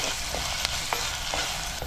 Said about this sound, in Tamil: நாட்டு தக்காளி 1 மட்டும் நம்ம ஆட் பண்ணிக்கிறோம். இதை நல்லா வதக்கிக்கலாம்.